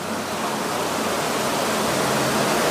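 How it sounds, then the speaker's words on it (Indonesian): Waterfall in a natural setting with clear spring water, a steady, dense rush of falling water that holds at constant loudness throughout, close by and alone with no voices. "Ada air terjun, tapi ini dalam apa enggak nggak tahu kayaknya."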